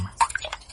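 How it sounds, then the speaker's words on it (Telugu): Water drips in a quiet room late at night, heard as a few short, clear plinks in under a second over a faint background hum. "నీళ్ళ శబ్దం"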